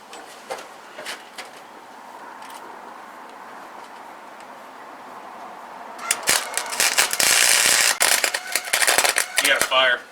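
MIG welding on the channeled floor pans of a 1948 Ford body being swapped onto a Ford Ranger, starting as faint scattered ticks and then turning into loud, dense crackling and popping during the last four seconds.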